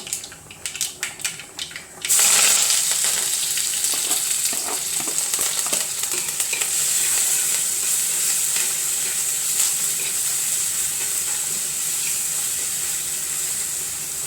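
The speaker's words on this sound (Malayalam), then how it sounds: "വെളുത്തുള്ളി, ചുവന്നുള്ളി, ഇഞ്ചി, കറിവേപ്പില ഇത്ര സാധനങ്ങളിട്ടിട്ട് നമുക്കിത് നന്നായിട്ട് വഴറ്റി കൊടുക്കാം" Garlic, shallots, ginger and curry leaves dropped into hot oil burst into a loud, continuous sizzle, with a few stirring clinks and scrapes in the pan, close and without talk.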